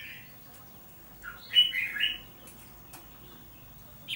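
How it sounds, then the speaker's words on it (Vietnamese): Wild birds outdoors, sounding agitated, give a short cluster of chirps and calls in the middle, with a faint call at the end over a quiet background. "Chắc đang nghe thấy chim ngoài đang có thái độ sục."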